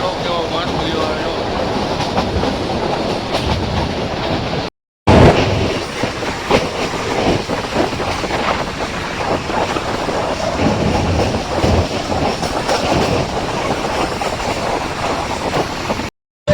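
A metre gauge train runs through Gir forest, loud and close, its wheels rattling in a steady clickety-clack with a rumbling roar throughout, broken by one brief cut.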